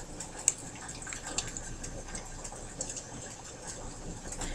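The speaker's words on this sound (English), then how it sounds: "So I'm just going to add some of the pineapple juice." Pineapple juice pours into a pan on a stove, a continuous soft liquid hiss and trickle with a couple of faint clinks, close and steady throughout.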